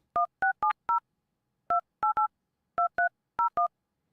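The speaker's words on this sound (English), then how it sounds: "going to call my son just to see what he says to the answer of what do I think of that." Touch-tone telephone keypad dialing, about a dozen crisp dual-tone beeps in uneven bursts with short pauses between groups, clear and alone with no talking.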